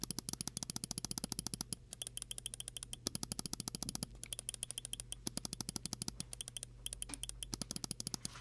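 Right button of a WLMouse Beast X Max mouse is pressed rapidly and repeatedly, producing dense bursts of close, crisp clicks separated by a few short pauses.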